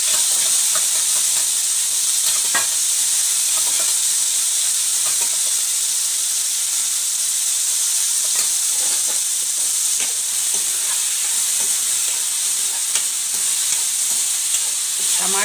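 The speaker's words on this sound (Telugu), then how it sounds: "ఇప్పుడు మళ్ళీ ఇవి దొండకాయ తీసేసి టమాటా వేయించుకుందాం. అన్నిటి ముక్కల్లో కొద్దిగా ఆయిల్ వేసుకుంటూ వేయించుకోవాలి." Tomato pieces frying in a little oil in a pan give off a loud, continuous hissing sizzle, with occasional faint taps from stirring.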